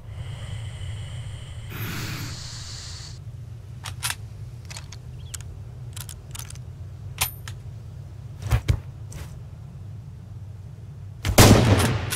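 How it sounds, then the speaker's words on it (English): Rifle fire in the Red Orchestra 2 video game comes as scattered sharp shots and mechanical clicks over a low rumbling background, ending in a louder, heavier burst of gunfire. "Don't forget to bolt the rifle after each shot, soldier."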